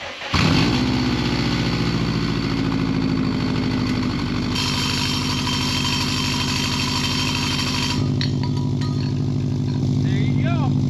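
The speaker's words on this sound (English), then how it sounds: "I'm gonna start it up and we'll see how it sounds with the silencer" A Subaru WRX STI fitted with a cheap Temu exhaust and silencer idles close by, giving a loud, steady, low rumbling drone that holds throughout with only slight shifts in tone.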